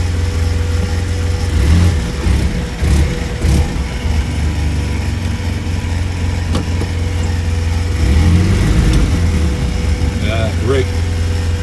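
A vehicle engine runs steadily and pulls away in a lower gear on a cabin trip in early winter, with a low, continuous drone and brief rises in pitch, mixed with faint background sounds.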